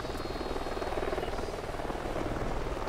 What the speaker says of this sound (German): Ein fucking Heli ist jetzt auch noch da,